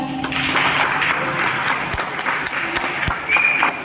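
A college audience applauds their correspondent, producing a steady, dense burst of clapping that fills the hall evenly for several seconds.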